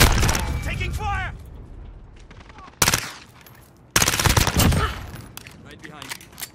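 Rapid automatic gunfire from Call of Duty Modern Warfare 2019 on the Petrov Oil Rig operation, loud bursts cracking out in two main volleys over game ambience, with a voice talking near the start.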